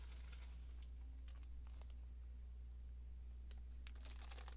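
Faint typing on a computer keyboard, scattered soft clicks and patter over a low steady hum, quiet and somewhat distant.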